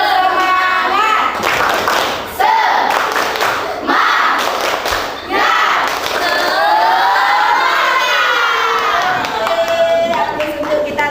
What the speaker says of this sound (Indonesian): mari kita dulu yel-yel dulu, tepuk semangat